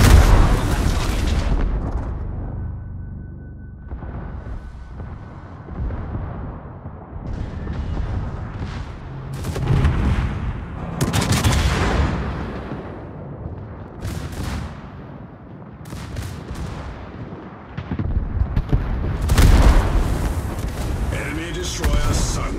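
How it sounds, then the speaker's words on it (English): Warship artillery fire in a naval battle game: repeated heavy booms and blasts at irregular intervals, some loud and near, others more distant, under radio-style voice callouts. "All stations, concentrate fire on that target"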